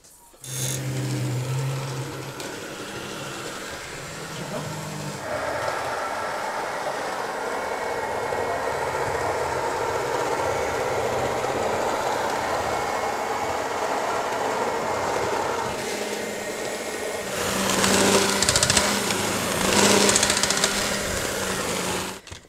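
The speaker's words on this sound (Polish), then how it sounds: "teraz odpalamy mikser i działamy" Electric mixer kneading thick honey spice cookie dough, a continuous rumbling, rattling motor whir with uneven strain that grows rougher and louder toward the end.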